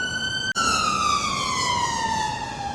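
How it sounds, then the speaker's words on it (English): An emergency vehicle siren wails along a Blackpool street during a festival of lights, one long tone sliding slowly downward in pitch after a brief break, loud and fairly close over traffic hum. "Won't be Blackpool, would it, without a siren?"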